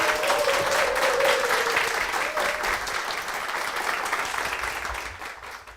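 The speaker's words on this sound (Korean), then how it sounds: "큰 박수로 부탁드릴게요." A church congregation gives a warm round of applause to welcome a guest, steady dense clapping that holds and slowly fades out, with a brief voice or tone faintly over the start.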